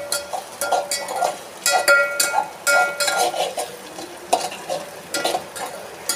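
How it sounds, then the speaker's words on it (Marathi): Vegetables with ketchup stirred in hot oil while frying for a vegetable soup, sizzling under repeated scraping and clinking of a spoon against the pan in an uneven rhythm. "तर चांगल्या प्रकारे त्यांना आपण मिक्स करून घेऊयात, तेलावर भाजून घेऊयात।"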